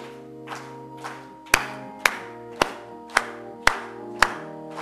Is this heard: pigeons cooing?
no